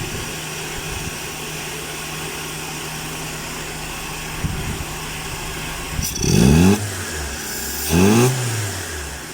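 A carbureted Mitsubishi Lancer 4G13 engine idles steadily during a tune-up, with a faint click midway, then gives two short, rising revs about a second and a half apart that die back to idle.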